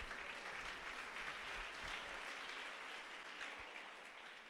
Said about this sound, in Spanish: Dese un aplauso usted solito